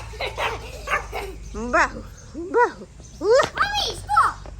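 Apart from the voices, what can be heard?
dog Bahu barking at stones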